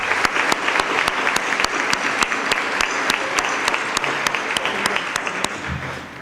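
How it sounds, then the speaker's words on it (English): An audience applauds a retiring emeritus member at a community gathering, steady dense clapping from many hands sustained for several seconds with sharper individual claps cutting through, then tapering at the end. "Let's give Ken Kuntz a round of applause and recognize his contribution"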